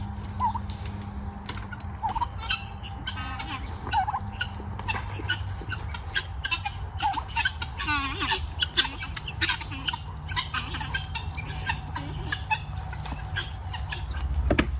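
Chickens cluck and squawk in scattered bursts as the birds are let out of their coop, with a turkey-like gobble mixed in, fairly close over a constant low background hum.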